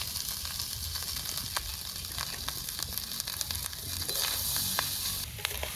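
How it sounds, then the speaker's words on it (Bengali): Cooked rice sizzles and crackles steadily in a hot wok for fried rice at an outdoor picnic, with a continuous, fairly quiet frying hiss and a few sharper pops, and no talking. "ভাতগুলো ঢেলে দিলাম"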